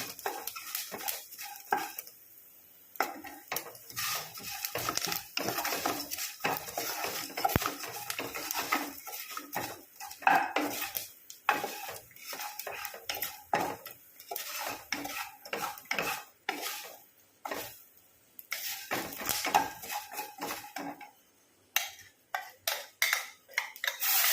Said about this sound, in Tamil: இப்போ நம்ம இந்த பேஸ்ட்டை போட்டு இந்த பேஸ்ட்டை போட்டு நல்லா வதக்கணுங்க